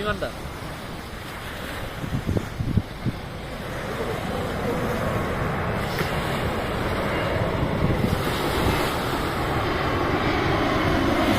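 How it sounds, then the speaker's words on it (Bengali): A jet airliner's engine roar builds gradually and grows louder over several seconds as it flies low overhead on approach to land, against a windy, wave-like rushing background, with a few brief knocks early on. "আর একটা আসতে প্লেন দেখেন, বিমানটা ছবি তোলেন"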